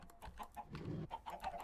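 Chickens in the video game Minecraft give soft, short clucks in a quick irregular series, faint and close together.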